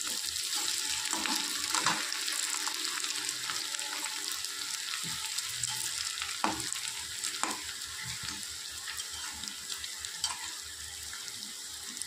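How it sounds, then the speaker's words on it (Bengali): Coconut fritters fry in oil with a steady crackling sizzle close by, broken by occasional sharp clicks of a spatula turning them. "তো বন্ধুরা, নারকেলের বড়া ভাজা কমপ্লিট হয়ে গেছে।"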